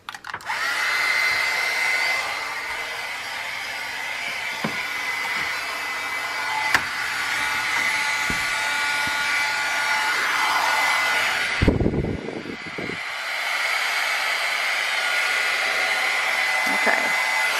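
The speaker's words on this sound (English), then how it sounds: "I'm going to get my heat gun and I'm going to warm it up first" A heat gun warms embossing powder on a papercraft mini album, a loud steady blowing roar that runs the whole time, close by and alone, with a brief shift in pitch partway through.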